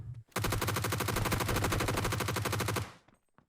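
A long, continuous burst of rapid automatic gunfire in the top-down tactical shooter PUBG Blindspot rattles loudly for nearly three seconds, then cuts off abruptly.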